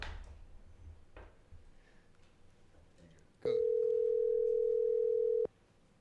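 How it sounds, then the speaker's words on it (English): A telephone ring tone sounds on a call placed to a random number, a single steady tone lasting about two seconds after quiet room noise and faint movement, with no one talking over it. "We're gonna try to call a"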